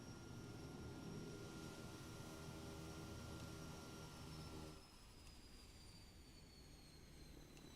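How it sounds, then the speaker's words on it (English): A Kodiak 100 turboprop in Microsoft Flight Simulator 2024 shuts down: its loud steady engine and propeller drone cuts away abruptly, leaving a quieter whine that keeps winding down. "let's see how this thing sounds shutting down here"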